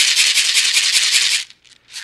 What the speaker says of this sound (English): it has the sound of the beads